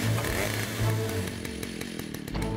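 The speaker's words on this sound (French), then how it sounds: "Je vais mettre la tronçonneuse en marche." A chainsaw rattles and buzzes at close range, its engine churning unevenly as it starts and keeps running, in a children's animated construction show.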